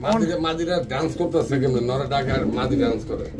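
Large white Baghdadi pigeons coo steadily in the background while someone talks continuously over them.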